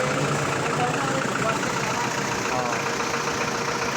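A Hyundai Starex with a D4BH diesel engine runs steadily at idle after a timing belt and oil seal replacement, a continuous even rumble heard close up with no talk over it.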